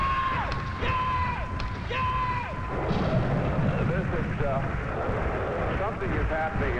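Sounds of war on a film soundtrack: a rumbling, dense wash of distant artillery and battle noise, with falling whistle-like tones early on, heard under a low voice speaking throughout.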